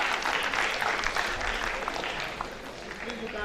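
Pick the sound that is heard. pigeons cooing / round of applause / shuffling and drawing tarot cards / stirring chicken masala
round of applause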